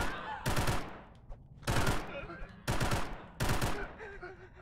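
Four loud, close bursts of rapid video game gunfire arrive at roughly one-second gaps, each a dense crackling volley, with quieter stretches of game ambience between them.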